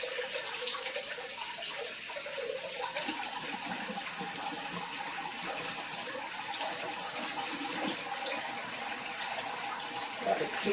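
Rice is rinsed under a running kitchen tap, producing a steady close rush of water with faint swishing as the grains are stirred.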